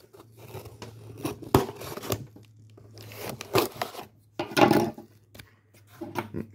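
Scissors cut open a ladybug shipping package in close, sharp snips and crunches. The cuts come in irregular bursts with small rustles of the packaging between them.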